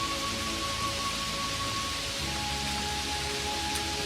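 Steady rain falls as an even, continuous hiss in a Hindi cartoon story, with soft tonal background sounds and no speech.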